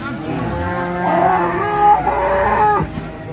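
Dairy cows and calves at a rural cattle market, one close, loud drawn-out moo rising and falling for a couple of seconds with faint background crowd noise.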